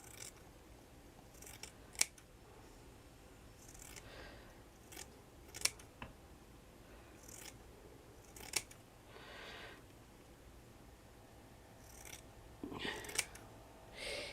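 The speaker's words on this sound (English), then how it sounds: "And then you just trim all of that together." Scissors trim handmade fabric trim, with quiet, sparse snips landing every couple of seconds against a near-silent room.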